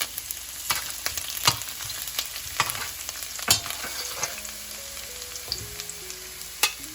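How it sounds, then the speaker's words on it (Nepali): Garlic cloves and chopped ginger fry in hot oil, making a steady close sizzle broken by sharp clicks and scrapes from stirring, with no one speaking. "तेल एकछिन तातिएपछि मैले यसमा 4-5 वटा लसुन राख्दैछु अनि अदुवा अलिकति थोरै काटेर राख्नुस्।"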